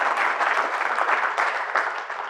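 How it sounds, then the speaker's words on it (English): An audience claps steadily through the whole stretch at a leadership gathering, a full, close round of applause with no voices on top. "let's give them a round of applause"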